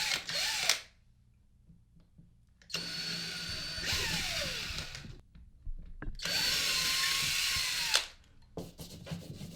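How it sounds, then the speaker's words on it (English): A power drill drilling into drywall whirs in two sustained bursts, its pitch rising as it spins up, with brief quiet gaps between runs. "take your drill with your bit, line it up, and it doesn't have to go too far in"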